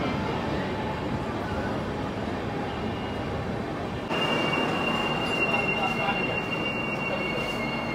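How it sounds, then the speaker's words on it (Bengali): Kanchankanya Express pulling into platform 2 at Bardhaman station, running about 13 minutes late, a steady rumble of rolling wagons swelling midway with high, squealing wheel screeches close by. "নির্ধারিত সময় থেকে প্রায় 13 মিনিট দেরিতে কাঞ্চনকন্যা এক্সপ্রেস প্রবেশ করলো বর্ধমানের 2 নম্বর প্ল্যাটফর্মে।"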